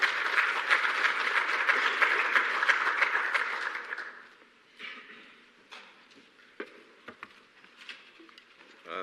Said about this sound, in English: Please, a round of applause for Nelson.